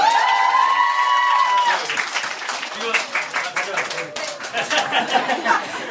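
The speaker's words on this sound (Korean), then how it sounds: "박수 한 번 더 부탁드립니다" Scattered applause and clapping from an audience at a Korean music album showcase rise as a speaker's voice fades, with some chatter mixed in.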